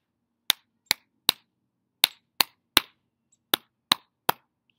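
Nine sharp single hand claps in uneven groups of three, close and crisp with short gaps between groups, imitating a seal clapping, with no talk.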